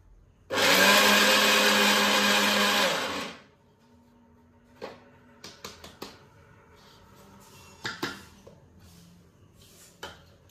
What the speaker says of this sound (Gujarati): ખાલી એક આટો કરે તો પાવડર કરી નાખ્યો આ મિક્સર